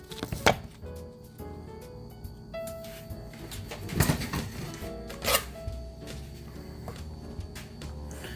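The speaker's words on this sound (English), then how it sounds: "So you can do it in slow chopping motions." A knife chops through food on a board in slow, irregular strokes, close and moderately loud, with a few sharper knocks and no talking.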